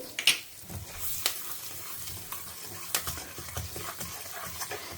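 Spices sizzle and crackle in hot oil in a home kitchen, with sharp pops and short bursts of frying over a low steady hiss, close and moderately quiet.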